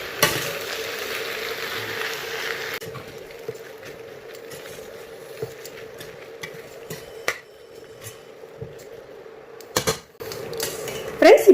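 Masala macaroni pasta, Indian style, is stirred in a pan, with a steady clatter of a spoon scraping metal, a low sizzle underneath, and a few sharper knocks toward the end.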